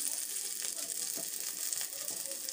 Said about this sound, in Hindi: हमारा ऑयल गर्म हो चुका है, अब हम इसमें देंगे प्याज दे दिए हमने